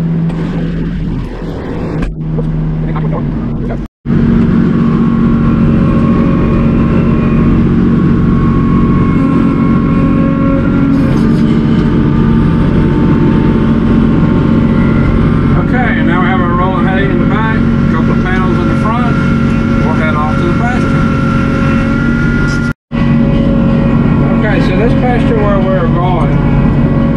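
A truck engine runs steadily near a power line being cleared, a loud, constant low rumble with droning tones that lasts throughout, briefly cutting out twice, while someone talks over it.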